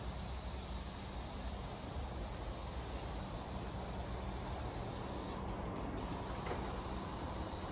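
A spray gun hisses in one continuous, even stream while a car bonnet panel is painted, a steady broadband rush with no pauses and no voices.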